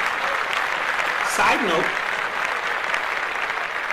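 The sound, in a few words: audience applause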